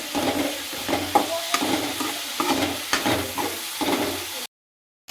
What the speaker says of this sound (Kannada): ಈರುಳ್ಳಿ ಟೊಮೆಟೊ ಹಸಿಮೆಣಸು ಎಲ್ಲ ಒಟ್ಟಿಗೆ ಇವಾಗ ಮಿಕ್ಸ್ ಮಾಡ್ಕೊಳ್ಬೇಕು